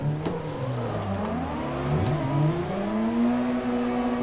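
Car engine drifting in the Assetto Corsa sim racing game, a continuous revving whine that rises and falls as the throttle is worked, with the pitch climbing steadily toward the end.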